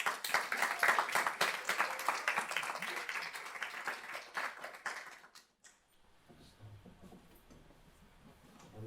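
A crowd at an internship program's final celebration claps for an intern for several seconds. The loud, dense applause then drops away to quiet room noise with faint shuffling.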